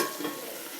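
Pork chops fry in oil in a pan after the cooking water has boiled off, giving a brief, dense, steady sizzle heard close up with no talking.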